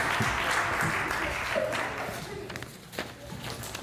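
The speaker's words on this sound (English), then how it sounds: "Let's give our actors a round of applause for that." Brief, quiet applause from a church congregation after actors perform a reading during a morning worship service, soft scattered clapping fading within a few seconds.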